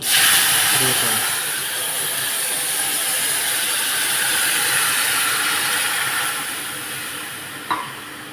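Tamarind water hits hot oil tempered with mustard seeds and cumin and sizzles loudly as one continuous broadband hiss for several seconds, then eases off slightly, with a small clink near the end.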